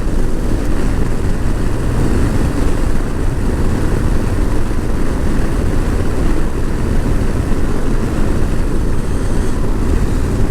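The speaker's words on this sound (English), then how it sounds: "the engine braking on this bike is absolutely phenomenal. Even in fifth gear, just rolling off the throttle there, I've got tons of engine brake" A motorcycle rolling off the throttle in fifth gear on an evening ride, its engine braking as a steady low drone mixed with constant wind rush, loud and continuous throughout with no pauses.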